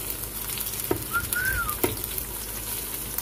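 Onion and ginger frying in a home kitchen pan for a green bean and potato curry, a soft continuous sizzle with a couple of faint clicks and a brief whistle-like tone.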